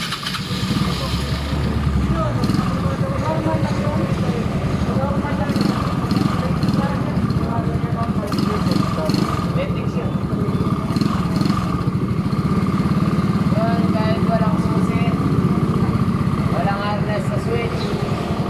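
A Yamaha Mio Soul scooter engine cranks, catches and settles into a continuous idle at close range, with people talking over the running motor.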